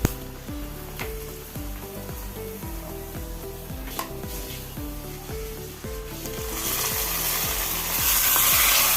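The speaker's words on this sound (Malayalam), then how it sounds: "തേങ്ങാക്കൊത്ത് നമുക്ക് വന്നിട്ടുണ്ട് ബ്രൗണായി നമുക്ക് നമ്മളെ പ്രഥമനിലേക്ക് ഒഴിച്ചു കൊടുക്കണം" Browned coconut pieces in hot ghee poured into kozhukatta pradhaman, with a steady sizzle and repeated rhythmic metallic scraping and stirring, rising to a loud hiss near the end.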